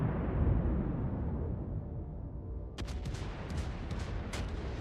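Battleship Wyoming's guns fire in a naval combat game, a heavy rumbling boom that decays, followed by a series of sharper distant shell reports and crackles.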